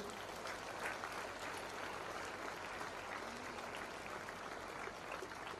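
An audience claps steadily throughout at a Telugu association event in Japan, a continuous, fairly soft wash of applause with no break.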